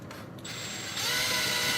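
A right-angle driver spins screws into a mount under a bed, with a short whir that rises into a steady, close motor whine after a moment, no voices.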